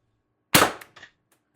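A single sharp snap of an MR TR50 Torpedo spring-powered blaster with upgraded firing pin and bolt spring, a short crack followed by a quick rattling echo, close and alone.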